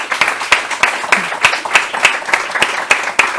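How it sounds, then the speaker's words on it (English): An audience at an architecture talk on the circular economy claps, the sharp hand claps falling in a fairly even, repeated rhythm, close and loud without any voices. "I suggest we give these wonderful people a huge round of applause."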